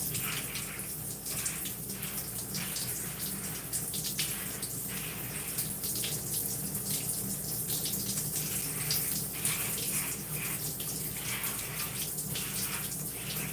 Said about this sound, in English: Make sure I get it all rinsed out. Don't want any shampoo left.